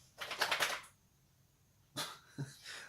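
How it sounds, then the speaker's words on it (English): A dog barks nearby, first a loud rapid burst of barks, then after a short quiet a couple of shorter barks and a whimper-like yelp, indoors with no talking. "I'm sorry, that's my dog."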